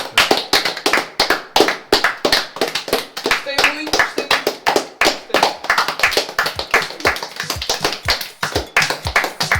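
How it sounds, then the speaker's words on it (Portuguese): A small group claps along with scattered sharp taps, uneven and close, under frequent talking and laughter throughout. "E agora palmas para nós próprios."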